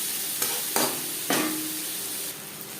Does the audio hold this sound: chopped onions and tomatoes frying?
yes